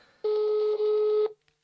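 A telephone on an unanswered call sounds one steady, loud tone for about a second with a brief dip partway through, then cuts off into near silence.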